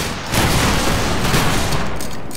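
A massed musket volley from a Battlegrounds 3 multi-clan linebattle, a dense rolling crackle of many shots fired at once, loud and close, holding for about two seconds before tailing off.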